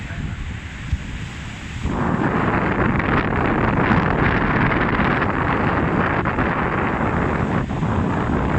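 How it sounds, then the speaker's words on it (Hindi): A ship cuts through open sea with a broad, steady roar of rushing water and wind buffeting the microphone, swelling loud after a quieter start and holding constant. "शिप जा रहा है।"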